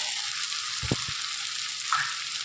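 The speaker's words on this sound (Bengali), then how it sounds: "এবার ভালো করে মশলাটার সাথে এঁচড়টা কষে নেব" Pre-fried jackfruit is sautéed into a cooked spice paste, producing a steady, close sizzle with a couple of brief low knocks from the spoon and a faint scrape near the end.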